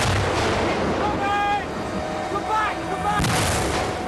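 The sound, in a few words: mortar fire in jungle counter-attack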